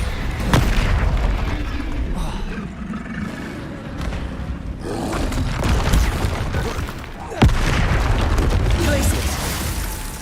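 A Bombarda explosion spell going off in Hogwarts Legacy, with heavy booms and rumbling blasts over a loud, continuous battle din and a sharp burst near the end, with voices mixed in.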